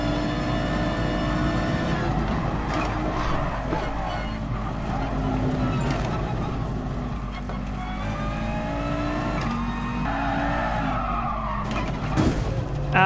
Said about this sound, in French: Il met des grands coups de frein dans des zones où